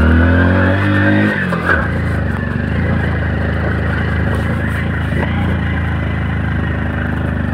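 A vehicle engine roars loudly and continuously close by, its pitch jumping as the driver shifts from first into second gear and then holding a strained, heavy drone.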